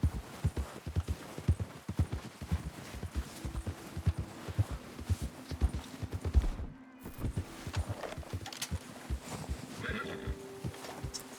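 In Red Dead Redemption 2, a horse's hooves clip-clop in a steady, rapid rhythm on the ground, close and clear throughout, briefly broken by a short gap, with faint game ambience beneath.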